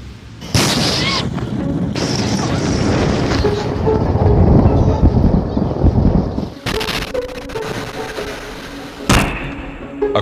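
Loud, deep booming rumbles from a meteor roll on for several seconds, with sharp cracking blasts breaking out near the end, like distant sonic booms.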